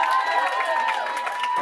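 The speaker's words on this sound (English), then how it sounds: "Can I get another big round of applause to your best man" Wedding guests give the best man a round of applause with cheers and whoops, a dense steady burst of clapping and crowd noise.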